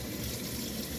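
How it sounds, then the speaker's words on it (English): Cold tap water gushes steadily into a dog's water bowl, a close, continuous splashing rush with no talking. "Okay, so we're gonna fill it up. Nice cold fresh water."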